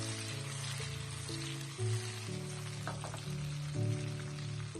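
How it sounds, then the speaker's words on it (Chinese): Tofu pieces fry in a hot pan for scallion-braised tofu, making a steady, soft sizzle throughout. Sustained background tones run alongside the frying. "煎豆腐的时候，我们要一块一块的下入"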